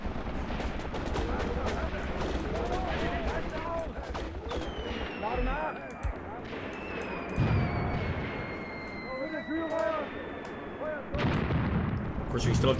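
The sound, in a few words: gunfire in the video game Graviteam Tactics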